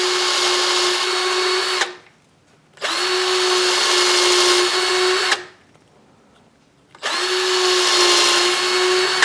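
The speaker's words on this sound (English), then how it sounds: "I think what I'll do is drill these holes just a little deeper." A power drill runs in three long, loud bursts, drilling holes in wood, its motor whining steadily as it bores, with short silent pauses between each run.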